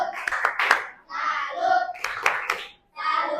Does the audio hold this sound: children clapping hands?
yes